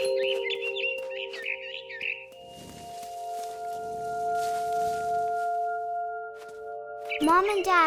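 Bright, warbling bird chirps at the start, over steady electronic tones, ending with a sharp sweeping chime, in the video game What Remains of Edith Finch.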